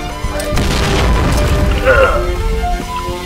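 A grenade goes off in the shooter game Point Blank, a booming blast with a rumbling tail and scattered clatter, heard under excited gamer chatter.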